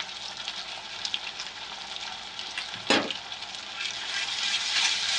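Ginger garlic paste sizzles steadily in a hot pan for a Bengali prawn malai curry, with a sharp hiss burst midway as the paste hits the oil, then a continuous crackle that builds slightly toward the end.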